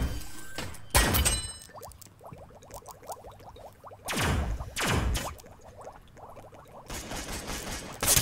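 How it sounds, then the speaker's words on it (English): A laser rifle fires in a video game shootout: several sharp bursts of zapping shots, some in quick rapid strings, sit over faint crackling game effects at low volume. "Ooh, laser rifle."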